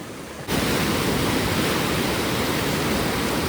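Floodwater of the swollen Ganges at Rishikesh rushing downward, a loud, steady, broadband roar that surges in abruptly and holds unbroken.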